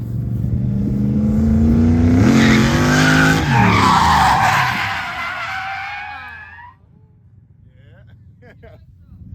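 Car drifting into a corner during a drift entry contest with Volvo 740s and a Miata, engine revving loudly while tires squeal and skid for several seconds before fading into quiet.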